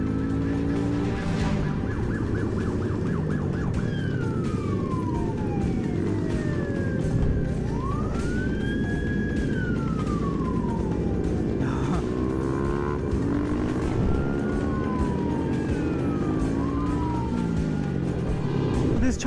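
A police car siren wails in rising and falling sweeps behind a motorcycle, over a loud, constant engine and road rumble, with honking-like tones mixed into the noise.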